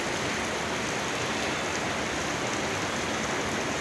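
Rain falls in a steady, even wash of broadband noise, close and constant throughout, with no other sounds or voices standing out.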